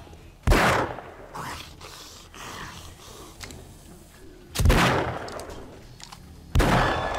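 Gunfire in the survival zombie game 7 Days to Die: three loud, close single shots spaced a few seconds apart, each with a short echoing tail, over a quiet game background.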